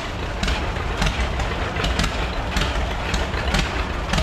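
A 1936 John Deere D tractor idling at an antique power show parade in Sycamore, Illinois, its engine thumping in a slow, steady pulse about twice a second, close and loud.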